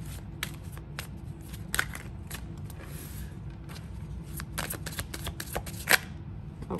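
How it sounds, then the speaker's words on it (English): Oracle cards shuffled close by in a quick run of soft slaps and riffles over a low background hum, with a sharper snap near the end and no speech. "so let me shuffle one more time, y'all. Them cards."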